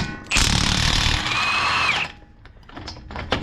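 An impact wrench loosening a Honda Civic Si axle nut fires a loud, close burst of rattling hammering for about two seconds, then stops, leaving scattered clicks and metallic handling noises.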